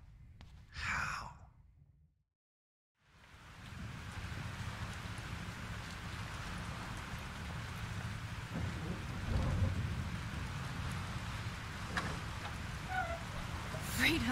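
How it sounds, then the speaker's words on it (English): Rain and a thunderstorm in Life is Strange bring a dense, steady hiss of heavy rainfall with low rolling rumbles. It follows a brief breathy sigh and a moment of silence, and a faint voice sounds under the storm. "This storm is real."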